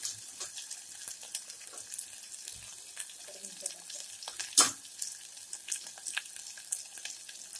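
Mustard seeds fry in hot oil for a Maharashtrian chavali usal, with a steady crackling sizzle and scattered sharp pops, one louder burst near the middle, close and alone.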